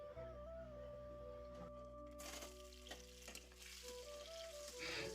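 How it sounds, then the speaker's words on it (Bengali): Peeled boiled eggs and potatoes coated in salt and turmeric fry in a pan with a faint, continuous sizzle, mixed with background music and occasional clinks. "ডিম আলুর খোসা ছাড়িয়ে তাতে নুন হলুদ মাখিয়ে ভাজতে দিয়ে দিলাম"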